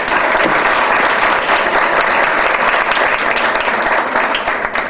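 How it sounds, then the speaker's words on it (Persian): A lecture-hall audience at a Persian-language summer session breaks into loud, sustained applause, dense clapping from many hands filling the room evenly for several seconds with no voices over it. "استاد من رو تشویق کنید تا برای شما حرف بزنم"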